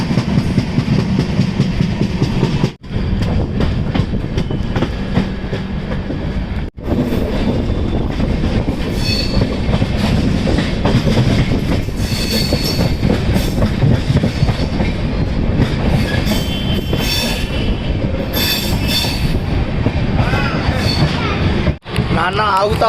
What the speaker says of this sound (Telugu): ఇంత స్పీడ్గా పోతుంది లోపలికి ట్రైన్